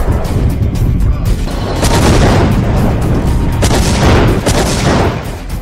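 Russian frigate weapons firing during a test, a dense sustained roar of heavy booms and blasts that stays loud throughout with repeated sharp bursts, no voices.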